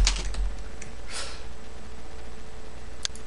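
Keys tapped on a computer keyboard in a short, light burst of clicks, with a sharper cluster near the start and another near the end, close and fairly quiet.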